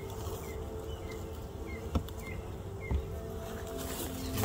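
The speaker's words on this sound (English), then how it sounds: "they seem like pretty gentle bees" Dense, continuous buzzing of many bees close by in a hive being removed, a steady hum with a few faint clicks and knocks.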